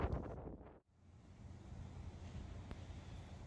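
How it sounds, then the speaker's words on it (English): Strong outdoor wind buffets the microphone in a low, steady roar with gusty swells and a brief dip, no voices heard. "the wind is something fierce today"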